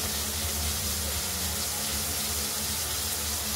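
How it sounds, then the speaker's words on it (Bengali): Pieces of katla fish frying in oil in a home kitchen, a dense, steady, loud sizzle filling the whole stretch without pause. "মাছগুলো আপাতত ভাজা হচ্ছে।"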